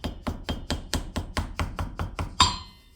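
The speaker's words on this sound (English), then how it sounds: "Tap her down with a, you know, just a dead blow." Around a dozen evenly spaced sharp taps from a dead blow hammer driving a pulley bearing down on an Ex-mark double sheave pulley, close and crisp, with a slightly louder final strike.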